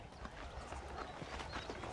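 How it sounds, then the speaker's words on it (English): Horse hooves clip-clopping at a steady gait in the Red Dead Redemption video game, a continuous run of fairly even beats heard alone with no talking over them. "let's see if you can still ride a horse"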